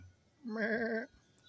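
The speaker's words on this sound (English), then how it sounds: "There's the old goat, still doing great." An old goat in a backyard at the top of the yard lets out a single clear, wavering bleat lasting about half a second, fairly close and alone against quiet outdoor background.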